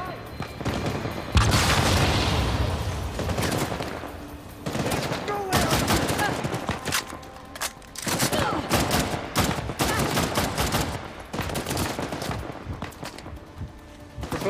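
Heavy gunfire in Uncharted: The Lost Legacy, with sustained bursts and scattered booming shots rolling through the whole stretch, close and loud, with faint voices now and then underneath.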